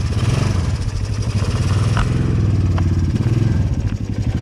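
Motorcycle-type engine with a straight pipe exhaust idling close by, a loud, steady low rumble with rapid popping pulses and light mechanical clatter, running throughout without a break.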